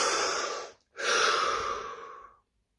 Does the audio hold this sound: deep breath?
yes